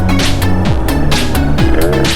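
An Aprilia SR50 scooter fitted with a Malossi RC1 engine revs hard and loud, its two-stroke note climbing and dropping in repeated rising surges with rattly, buzzing overtones.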